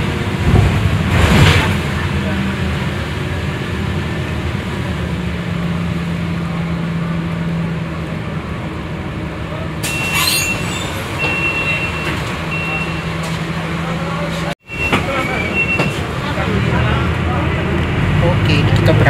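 A TransJakarta bus pulls away from the Cawang Cililitan stop, its engine giving a steady low rumble and hum with brief higher tones, as a passenger talks over the ride.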